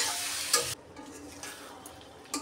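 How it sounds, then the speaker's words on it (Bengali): Marinated kingfish sautéing with onion in a pan, a quiet sizzle with a brief louder hiss at the start, then a softer crackle and a short scrape of stirring at the end. "ভালো করে মাছটা কষিয়ে নেই।"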